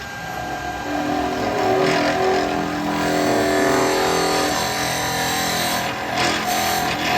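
A wood lathe motor spins up with a steady whine and rising tone, turning laburnum, humming continuously at close range with no talking.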